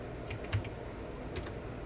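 Keys tap on a computer keyboard during a Linux command-line setup, a few soft, scattered clicks over steady low room hum.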